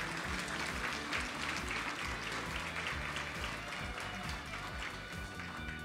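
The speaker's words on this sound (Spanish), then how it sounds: "Le damos un fuerte aplauso." An audience at a national ceremony honouring outstanding teachers breaks into sustained applause, dense clapping from many hands filling the room steadily, with faint music underneath.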